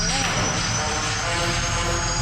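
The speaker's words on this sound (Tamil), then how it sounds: "Starting engine போட்டுடலாமா?" Helicopter engine starting up in the Granny video game, a steady whining, droning engine roar held at full level throughout, with a faint voice underneath.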